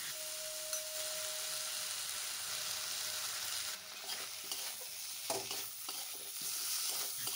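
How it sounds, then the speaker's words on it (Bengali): Coconut and spice paste of ginger, cumin and Kashmiri chili fries with potato in a pan for a Bengali banana-blossom and prawn dish, giving a steady close sizzle broken by scraping stirs, with no talking. "সমস্ত মশলা ভালো করে ভেজে নিতে হবে।"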